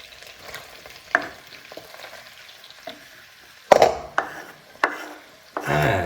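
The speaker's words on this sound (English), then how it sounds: "the butter's all melted and sizzling nicely, and in go our mushrooms" Mushrooms sizzle in melted butter in a pan, a soft steady frying hiss punctuated by scraping stirs and clinks of a utensil against the pan, loudest toward the end.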